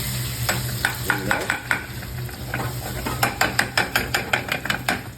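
Garlic frying in oil for a tomato and fish dish sizzles steadily, with a spoon scraping and tapping the pan in quick, uneven strokes, close up and with no talking.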